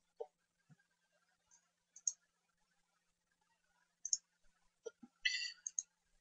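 Mouse clicks while working in GTS NX engineering software on a pile foundation model: scattered single sharp clicks, then a quick cluster of several near the end, close and faint against quiet with no talking.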